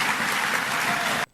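Crowd at a political event clapping after a speech, a dense burst of applause lasting just over a second before cutting off abruptly.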